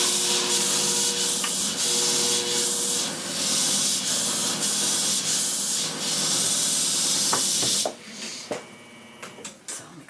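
Thinning shears are rubbed against a pink sharpening stone, a close, loud hissing scrape in long repeated strokes, then scattered lighter taps and scrapes near the end.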